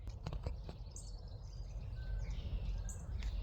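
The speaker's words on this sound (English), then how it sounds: "Now there's a bird here. I don't know if you can see. Little brown bird." A little brown bird calls outdoors in Cecil County, Maryland, giving a few faint, thin chirps over steady wind and a low rumble of background noise.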